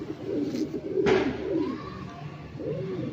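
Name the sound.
pigeon cooing, Lokhande pigeons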